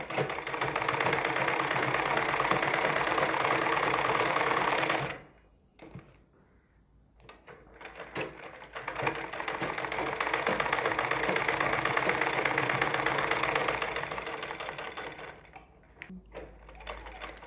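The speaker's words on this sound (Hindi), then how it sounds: "तो इस तरह से हम मार्क पे सिलाई चलाते आएंगे।" A sewing machine stitches a newspaper pattern strip for a ladies' suit sleeve, running in a steady, continuous whirring drone that stops briefly partway through and then resumes.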